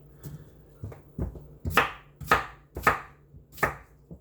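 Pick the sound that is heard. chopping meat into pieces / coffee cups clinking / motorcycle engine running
chopping meat into pieces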